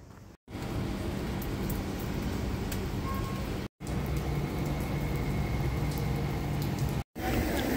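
Steady rain falls outside as a dense, even hiss at moderate volume, cut by brief silent gaps, with occasional faint drips and distant traffic.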